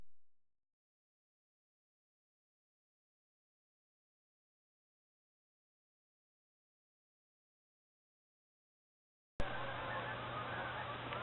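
Long silence at Point Pelee, then distant geese honk faintly overhead against a low steady hum for the final couple of seconds.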